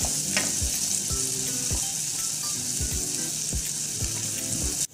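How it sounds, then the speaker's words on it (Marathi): Finely chopped onion sizzles and fries steadily in a pan, with a spoon stirring and scraping at a regular rhythm, close and fairly loud, no voices. "कांदा देखील आपल्याला छान परतून घ्यायचा आहे।"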